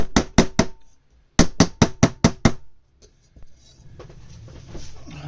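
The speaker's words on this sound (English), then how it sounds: "we'll flatten this best we can with a nylon hammer" Nylon hammer flattening a piece of sterling silver on a bench: a quick burst of three sharp taps, a pause, then six more evenly spaced blows, close and crisp, followed by faint handling noise.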